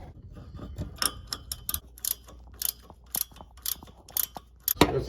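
A wrench clicks and ratchets against a stuck nut on a first-generation Toyota Sequoia suspension, a close series of irregular metallic ticks and clacks with short pauses and no talk.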